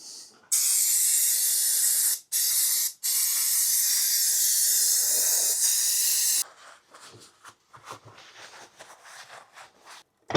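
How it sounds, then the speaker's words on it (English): Brake cleaner sprayed from an aerosol can while working on a vehicle, a loud close hiss in two short bursts and then one longer sustained burst, followed by quieter workshop shuffling. "Brake cleaner."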